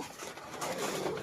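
A single pigeon cooing softly and close as it lands during club pigeon training, a brief low murmur with faint background noise.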